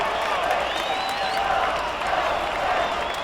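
A loud, steady crowd roar fills a Los Angeles Dodgers stadium during a tied MLB 2K8 baseball game, with someone commentator talking over it throughout.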